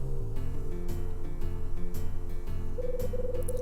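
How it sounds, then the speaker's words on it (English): Bird squawking in the video game Hotel Dusk: Room 215, a short run of repeated hoot-like calls near the end over a steady tonal music bed, with no talk. "Someone is squawking up a storm behind me."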